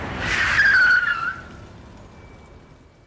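A car brakes hard and skids on a road, giving a loud rising tire screech that fades away into quiet, alone with no voices.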